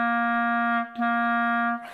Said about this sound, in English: use the exact same amount of air with the clarinet, and it will sound something like this